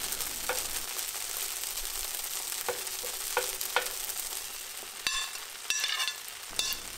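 Singapore noodles stir-fry on high heat in a pan as tongs tease the clumps apart, a steady close sizzle broken by several sharp metallic scrapes and clacks, heard alone.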